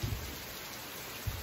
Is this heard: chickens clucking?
no